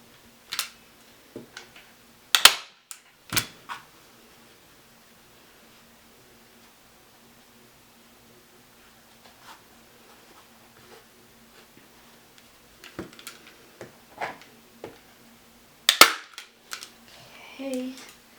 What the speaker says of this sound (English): And then get your staple gun again